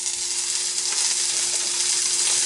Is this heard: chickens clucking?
no